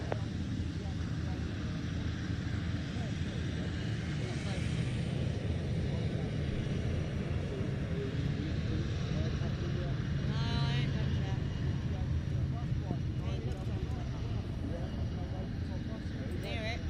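An aircraft takes off from runway 27 at the Royal International Air Tattoo air show. A continuous, broad engine roar holds steady and fairly distant, and voices talk over it throughout.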